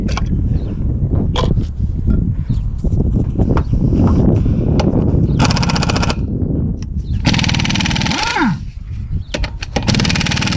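An impact wrench rattles in rapid bursts while removing a wheel from a 2003 Chevrolet Impala, loud and close, with brief pauses between bursts and a voice talking in between.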